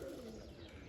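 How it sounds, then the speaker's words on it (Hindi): Pigeons cooing on a rooftop, a soft low throaty coo heard faintly at a distance over steady background noise, one brief call with no talking. "ये 6 कबूतर भी दिखाई दे रहे हैं और ऊपर ये आ गए हैं।"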